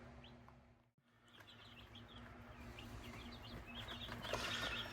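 Small meat-breed chicks peep and chirp in quick, scattered bursts against a low background hum, growing busier toward the end.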